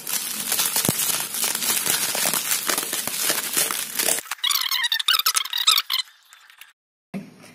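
Packaging of a Redmi Note 7 Pro smartphone being torn open by hand: a dense run of close crinkling and rustling, then sharper bursts of plastic crackle and tearing, ending in near silence with one brief final rustle.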